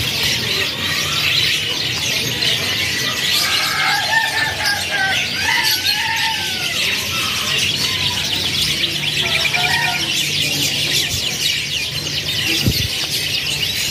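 Several AFS-series canaries, young birds and ringed stock at a bird shop, chirp and tweet continuously over a busy, noisy background, with brief faint calls scattered throughout.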